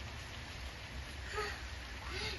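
Steady rain falls all day, a soft, even hiss of drops heard from indoors, faint and continuous with a couple of brief background sounds.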